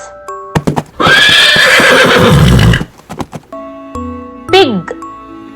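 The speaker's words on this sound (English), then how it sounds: "horse," A horse neighs loudly and close for about two seconds, a long shaky whinny, with clip-clop hoof sounds and small jingling bells before and after it.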